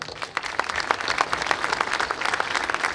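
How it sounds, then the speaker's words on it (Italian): Sustained applause from an outdoor crowd at a legality march in Joppolo Giancaxio, honouring a murdered carabinieri marshal; dense steady clapping throughout, moderately loud with no talking. "vi chiedo di tributare un lungo applauso"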